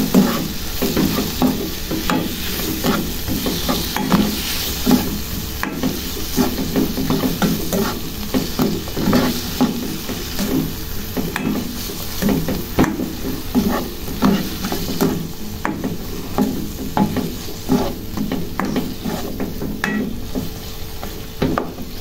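Green beans with dry seasoning being stirred and stir-fried in a pan, a spatula scraping and clattering in a steady rhythm over continuous close sizzling.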